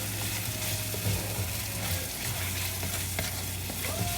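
Spices and turmeric powder sautéing in oil for pepper chicken masala, a continuous loud sizzle with scattered stirring clicks and scrapes throughout, plus a low steady hum beneath.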